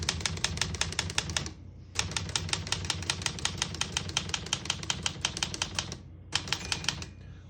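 Typing on a 1968 Olivetti Lettera 32 portable typewriter: quick, sharp key strikes in rapid bursts, broken by two short pauses, close and clear with no talk; a distinct margin bell ring is not clearly evident.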